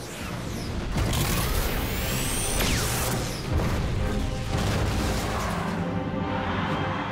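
Loud, dense blasts and crashing booms roll through a busy mechanical din, like cannon fire amid clanking, with no pauses between; cannon fire in a card-battle game.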